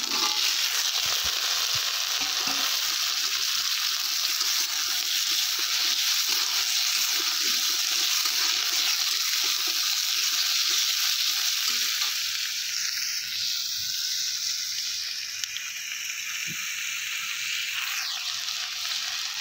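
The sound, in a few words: cut potatoes added to onions, frying in pan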